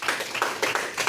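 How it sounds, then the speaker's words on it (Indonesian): Small group of students clapping for a presenting group in a classroom teaching session, a short burst of close, uneven handclaps with a few distinct peaks. "Beri tepuk tangan buat kelompok 1."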